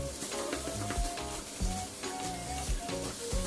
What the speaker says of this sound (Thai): แล้วก็ทำการผัดคลุกเคล้าให้ เข้ากันนะครับ